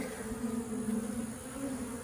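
Honey bees hum steadily and close during a hive inspection, a dense continuous drone with no pauses and no voices.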